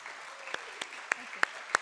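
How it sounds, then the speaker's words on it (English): Scattered audience applause after a roundtable panel discussion, a few distinct sharp claps spaced across a thin background hush, fairly quiet and sparse. "Let's give all our speakers a round of applause."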